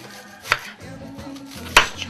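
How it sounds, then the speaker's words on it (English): An onion being chopped with a knife on a cutting board for rice and peas with chicken, with two sharp, close knife strikes separated by quieter handling and scraping sounds. "I've got 1 onion. Chop this off there."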